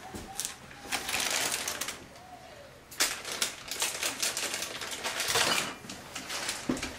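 Crisp snipping and crinkling of scissors cutting through a plastic packet of sultanas, a series of sharp close cuts and rustles.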